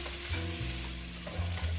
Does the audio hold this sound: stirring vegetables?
yes